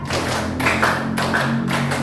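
A class of children claps a rhythmic pattern together in a school classroom, the taps landing in steady grouped bursts that stay fairly even in loudness from start to finish.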